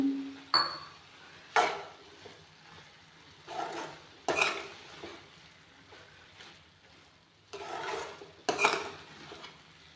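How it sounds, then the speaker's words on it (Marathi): Dry fruits tipped into a pan of traditional gajar halwa, giving several distinct clatters and scraping stirs spaced a second or two apart, close and moderately loud with quiet gaps between. "आता ह्याच्यावरून हे मी काही ड्रायफ्रूट्स टाकते आहे"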